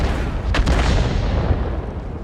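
A heavy artillery shot fires from the Bat.-Châtillon 155 58 self-propelled gun in a tank battle video game, a loud booming blast that rolls into a sustained rumbling tail.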